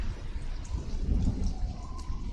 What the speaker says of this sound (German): Aber der Regen tut uns ja nichts.